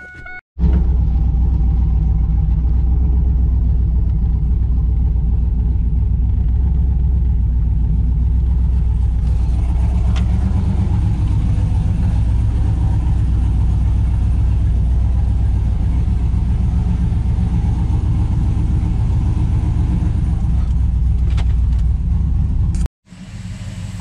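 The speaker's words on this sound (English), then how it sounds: "I'm gonna pull the car in right now." A car being driven into a repair shop rumbles steadily and loudly at a low idle for over twenty seconds. The engine is close and constant, then cuts out abruptly near the end.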